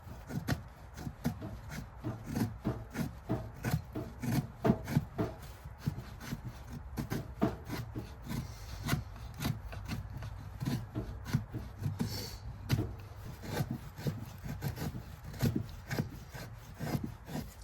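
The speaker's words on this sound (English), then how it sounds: "These aren't the thinnest of shavings, but that's what I could get out of this log" Knife carving shavings from an unseasoned wood log at a winter camp: a rapid, continuous run of close, dry scraping strokes that stays fairly quiet and even throughout.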